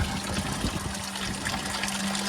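Water trickles and splashes down through the media pads of a Champion evaporative swamp cooler, a steady close wash of dribbling liquid with a faint motor hum underneath.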